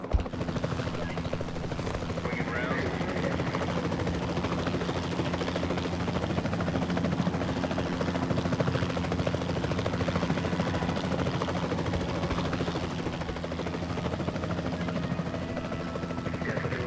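A helicopter in the Jurassic World Evolution 2 game flies steadily with a continuous rotor and engine drone, holding a fairly even level throughout, with a faint voice underneath at times.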